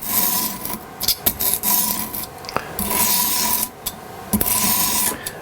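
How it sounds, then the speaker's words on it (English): A knife edge carrying a burr on both sides is drawn across a sharpening stone in a few separate rasping strokes, close and fairly loud, each a dry gritty scrape followed by short pauses. "It's got a burr all the way both directions. So I'm going to just give it a couple of strokes."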